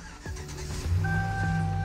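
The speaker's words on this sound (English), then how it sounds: "this thing pretty much fires right up every single time" A GM single cab short bed truck with an LS engine starts: a quick cranking whir catches and settles into a steady, close idle hum.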